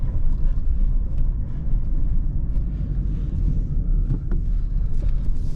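A 2017 Mazda3 Sport with a six-speed manual rolls at about 20 mph over a bumpy road section, heard from inside as a steady low rumble of road and tire noise with faint knocks and no talk.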